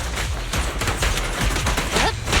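Sustained gunfire in the video game Zenless Zone Zero, a dense continuous barrage of shots layered over a loud rumbling battle mix with no speech.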